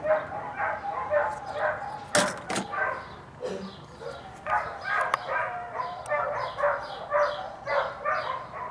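A dog barks repeatedly in quick, uneven bursts, close and loud, with a couple of sharp knocks early on.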